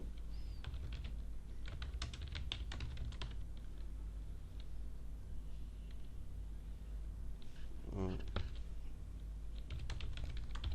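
Keystrokes on a computer keyboard clatter through most of the stretch, typing out a caption in rapid irregular bursts with brief pauses, over a steady low hum.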